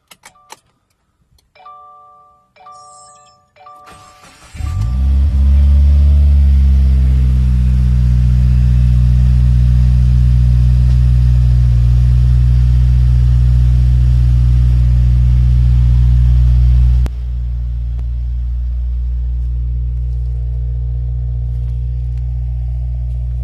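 A few electronic chimes, then a 2017 Subaru WRX with a Magnaflow catback exhaust cold-starts at about 55°F, cranking and roaring to life loudly through the deep exhaust, holding a high idle before dropping to a lower rumble.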